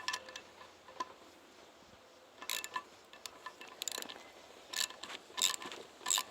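A ratchet wrench loosens a nut on a cylinder head stud, giving faint bursts of quick clicking that come and go in short runs against a quiet workshop background.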